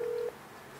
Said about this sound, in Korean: 사연이한테 전화해볼까, 우리